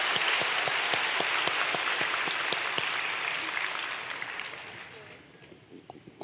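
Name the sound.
congregation applauding for the children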